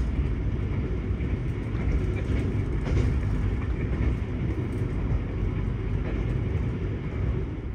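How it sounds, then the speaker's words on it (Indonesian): The Argo Merbabu passenger train pulls away from Pekalongan station, heard from on board as a steady, loud low rumble of running rails and carriage noise throughout, with faint rattles and no talk. "kereta api Argo Merbabu diberangkatkan kembali dari stasiun Pekalongan"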